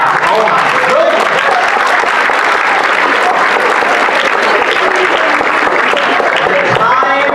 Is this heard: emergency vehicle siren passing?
no